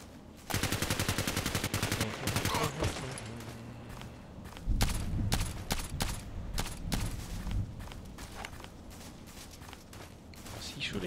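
Rapid automatic rifle fire from a SCAR-L in a first-person shooter game, bursts of rattling shots across the whole stretch with heavier impacts midway, while a player talks over it.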